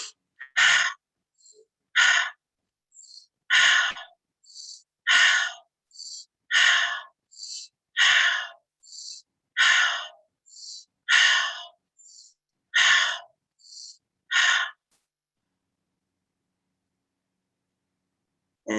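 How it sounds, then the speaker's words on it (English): Rhythmic fire breath exercise, in through the nose and out through the mouth, with about a dozen sharp, forceful breaths at a steady pace, close and loud, before the sound stops into silence. "So this is fire breaths, in the nose, out the mouth."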